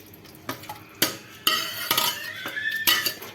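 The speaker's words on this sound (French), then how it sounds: "On va verser dans la couscoussière." Stew being tipped from a cooking pot into a couscous steamer, heard as close clanks and scrapes of metal pot and utensils, with soft splashing and bubbling between the knocks.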